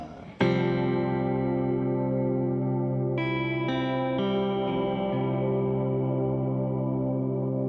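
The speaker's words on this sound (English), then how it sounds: "So this kind of functions as like a big old delay reverb kind of sound." Sustained guitar chords run through a pedalboard set for a huge delay and reverb wash, swelling into a dense, shimmering bed of tone with a few new notes layered in as the sound slowly decays.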